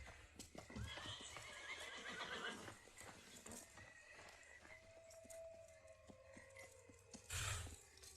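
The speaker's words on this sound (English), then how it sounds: "That's one of Edward's horses" A horse neighs loudly near the end, after a long stretch of faint hoof clip-clops and rustling in a quiet outdoor setting.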